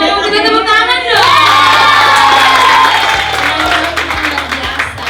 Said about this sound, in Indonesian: Kita tepuk tangan dong.